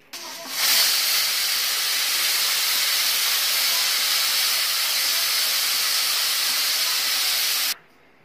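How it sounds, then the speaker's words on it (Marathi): A pressure cooker whistle releases a loud, continuous hissing rush of escaping steam that starts abruptly, holds steady for several seconds, then cuts off sharply. "कुकरला 4-5 शिट्ट्या करून आपण शिजवून घ्यायचे आहे।"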